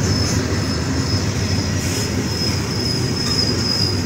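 Canadian National freight train 9565 rolls through Effingham, Illinois, with a loud, steady rumble of wheels on rail and a sustained high wheel squeal, close by with no voices.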